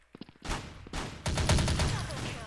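Rapid bursts of automatic gunfire crackle in quick succession, loud and close, with brief gaps between volleys.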